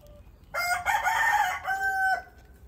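A rooster from a small flock that includes a brown rooster and a black Ayam Cemani crows once, loud and close, the call rising then holding a long drawn-out final note over a quiet background.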